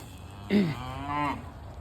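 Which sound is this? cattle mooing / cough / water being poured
cattle mooing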